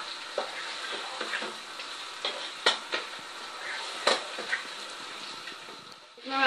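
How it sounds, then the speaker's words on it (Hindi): One kilo of chicken stirred and fried on full flame, a steady sizzle punctuated by repeated scraping and clinking spoon strokes against the pan, close by. "अब इसको अच्छी तरह मैं भूनूंगी। 5 मिनट के लिए इस तरह चलाते हुए फुल आंच पे।"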